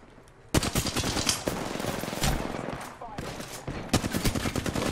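Apex Legends gunfire, dense rapid automatic bursts from close range, loud and nearly continuous after a quiet start, with brief gaps between volleys.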